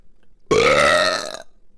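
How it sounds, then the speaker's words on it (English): A single loud, drawn-out human burp during a mukbang eating session, close to the mic, rising then tapering over about a second with quiet before and after. "I gotta burp, you guys."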